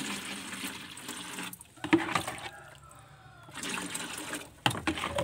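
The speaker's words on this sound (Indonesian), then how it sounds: "ambil airnya kita masukkan ke dalam gembor kita masukkan dalam gembor semacam ini ya" Water from a well poured into a metal watering can, a splashing, gurgling pour with a brief gap in the middle, close and fairly quiet.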